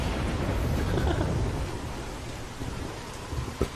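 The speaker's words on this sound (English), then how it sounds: "I told you there was a storm coming." A thunderstorm in The Walking Dead video game: dense, steady rain hisses throughout while a deep rumble of thunder rolls underneath, fading slightly toward a small crack near the end.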